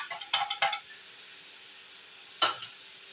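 Green chili paste and ginger-garlic paste stirred into browned chicken in a pot for korma, a few quick clinks and scrapes of a utensil against metal, then a pause and one more scrape.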